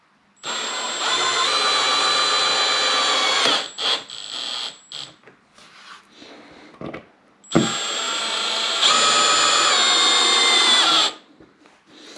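A power drill drives a screw into a guitar fretboard binding, whirring steadily in two long sustained bursts of roughly three seconds each, loud and close, separated by quieter handling clatter, with no talking.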